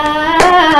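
Two sharp hand claps cut through sustained, tonal gospel music, spaced about a third of a second apart.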